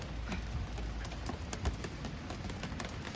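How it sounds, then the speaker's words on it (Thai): Steady rain falls outdoors as a dense, even hiss with scattered soft ticks and patters, continuous and moderately close throughout, with no voices. "ฝนตก"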